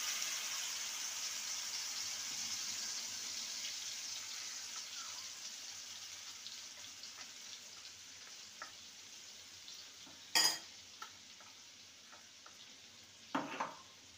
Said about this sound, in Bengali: এবার যে মশলাটাকে পেস্ট করে নিয়েছি সেটা দিয়ে দেব।